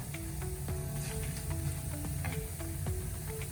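Garlic sizzles steadily in hot oil in a pan while mango pickle is being made, with the occasional stir or scrape of a spoon under a constant frying hiss.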